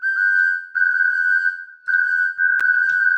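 A tin whistle plays long sustained notes alone, with brief breaks between phrases and a sharp click near the end.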